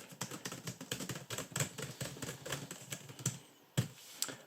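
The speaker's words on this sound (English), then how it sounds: "I've been able to type quickly" Fast typing on the keyboard of a cheap Geobook 1E laptop, a dense run of light plasticky key clicks close up, with a couple of sharper taps near the end.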